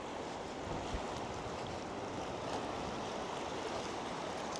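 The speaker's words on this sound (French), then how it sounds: "Et il y a des clapots." Small waves lap steadily at the water's edge at Lacanau, a constant close wash of water mixed with gusty wind noise on the microphone and no talking.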